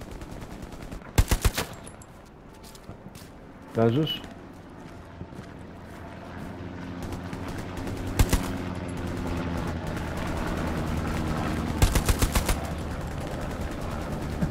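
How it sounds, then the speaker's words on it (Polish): Gunfire from the WWII shooter Hell Let Loose, played on PS5: a few sharp, loud bursts of shots spaced several seconds apart over continuous battlefield rumble, with a voice speaking briefly. "Tutaj słyszę jakieś strzały."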